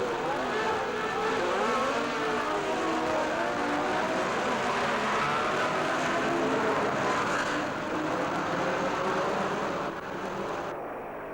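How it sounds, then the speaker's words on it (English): Racing car engines roar together at a late-1950s Grand Prix start, a dense, steady, loud drone of overlapping engine notes that holds for over ten seconds without talk. "engines burst into life, snapping, crackling and popping like a television commercial for a breakfast food"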